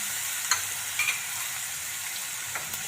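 Garlic-chili paste fries with mustard seeds, cumin, asafoetida, red chilies, curry leaves and bay leaf in a pan for methi palak kadhi, a steady hissing sizzle with a few soft spoon clinks as it is stirred.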